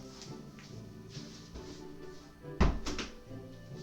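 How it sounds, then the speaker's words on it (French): A door at home is pulled shut with a single short thud partway through, heard over ongoing game music and sound effects. "faut que j'aille fermer ma porte"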